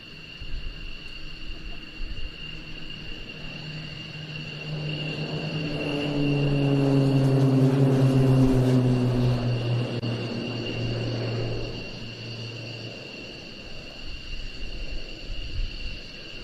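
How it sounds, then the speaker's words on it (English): A Pilatus PC-9 turboprop rolls for takeoff at an air show, its engine swelling from a distant drone to a loud, rising roar mid-way before fading, over steady background whine. "the PC-9s are now rolling for takeoff"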